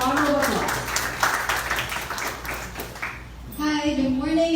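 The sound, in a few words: audience applause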